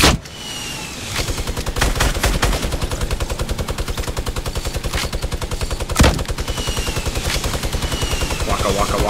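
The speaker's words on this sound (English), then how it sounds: "They're shooting at the teams over by the prison." Rapid, sustained automatic gunfire from the video game Fortnite, near the prison, rattles in a fast even rhythm for seconds, broken by a few louder single blasts.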